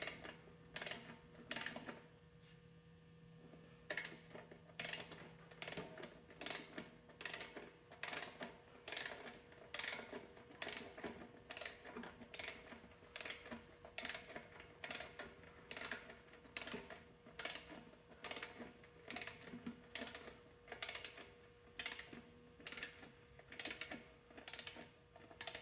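Ratchet tightening cylinder head bolts on the engine of a 1959 Clark Clipper forklift, a long steady run of rapid, evenly spaced clicking strokes close by, with brief pauses between pulls and no talk.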